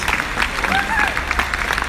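An audience at a D23 Expo stage show applauds steadily from start to end while a person speaks over the clapping.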